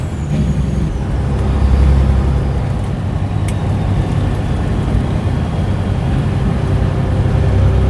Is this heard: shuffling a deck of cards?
no